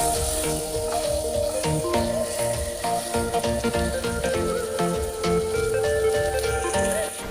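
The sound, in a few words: battered pigeon frying in oil in a wok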